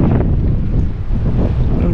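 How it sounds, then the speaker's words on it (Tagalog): Loud wind roars and buffets the microphone out at sea aboard a fishing boat, a dense continuous rumble with no other sound standing out. "Mahangin kasi."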